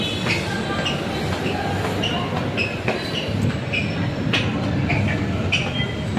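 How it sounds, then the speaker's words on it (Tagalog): MRT train pulling into a station platform, a steady rumble and rolling wheel noise with faint high squeals and scattered clicks throughout, no talk. "Mag-aabang na lang kami dito ng MRT."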